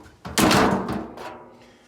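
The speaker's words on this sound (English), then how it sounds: "What we're gonna do now is close the dryer door." A Samsung dryer door thuds shut with a solid, hollow thump, followed by a short rattling decay; a single close, fairly loud impact.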